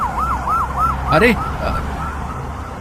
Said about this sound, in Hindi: सबने देखा कि एम्बुलेंस अपने आप स्टार्ट हो गई